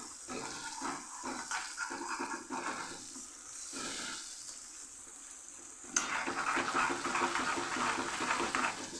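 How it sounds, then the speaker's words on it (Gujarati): A smoky tomato, garlic and chili chutney sizzles in a pan as it is sautéed with a little added water, giving a soft, steady hiss with stirring scrapes that grows brighter and louder partway through. "આ ચટણીને બધું પાણી બળી જાય ત્યાં સુધી આપણે આને સાતળશું"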